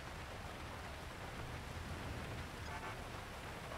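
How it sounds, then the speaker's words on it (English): Steady light rainfall patters across the ground in GTA 5, a soft even hiss of drops on wet roads with no voices, faint and unbroken throughout. "A little bit of rain."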